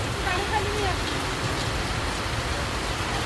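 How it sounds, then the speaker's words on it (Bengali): Heavy rain pours onto a street at a town intersection in Feni, a dense, continuous hiss close by without breaks. "প্রচুর বৃষ্টি হইতেছে"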